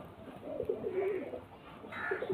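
A pair of fancy pigeons gives low, throaty coos in a short rolling run, quietly and near, with faint background noise.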